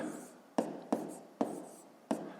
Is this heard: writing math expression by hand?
yes